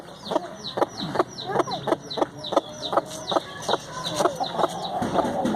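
A hen clucks repeatedly in a quick, regular rhythm, close by, with a few higher squawks mixed in over faint background noise, as chicks hatch naturally.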